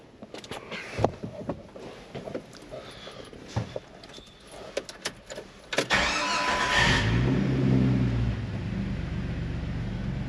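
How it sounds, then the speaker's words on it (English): A Jeep engine cranks and catches after some clunks and rustling, then settles into a low, steady, quiet idle close by, running smoothly without squealing after a new alternator. "Now let's start her up."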